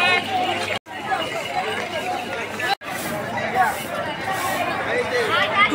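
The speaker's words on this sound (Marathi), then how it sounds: "बघा इकडे पण खूप गर्दी आहे." Dense crowd chatter fills the grounds of the Mahalakshmi temple in Kolhapur in the evening, a steady hubbub of many voices with footsteps and movement close around.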